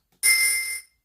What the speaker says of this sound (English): Now the tuned ring sounds like this.